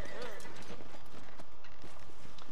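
In Red Dead Redemption, horse hooves clip-clop in a quick steady trot through the whole stretch, moderately close, with game voices and ambience layered over them.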